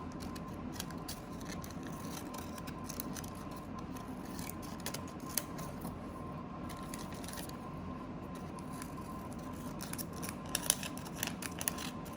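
Scissors snipping around a pastel's wrapper while trimming it at home, a steady run of close, small cutting snips repeated throughout over a low background hum, with no talking.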